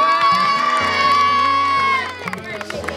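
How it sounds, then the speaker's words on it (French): A school crowd at an integration day cheers and shouts loudly, with young voices whooping over the noise before it fades into scattered calls. "Merci, on peut tous l'applaudir."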